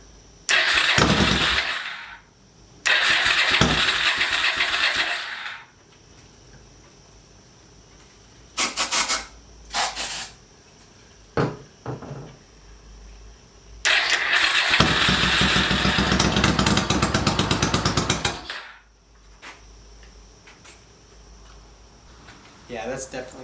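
Engine of an 800cc homemade monster tractor being started and run, flooding with too much fuel: several bursts of loud close revving broken by short cranking attempts and pauses, with a voice talking in between.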